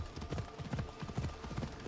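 Horse hooves gallop in a steady rapid clip-clop rhythm in the video game Assassin's Creed Odyssey, close and fairly quiet.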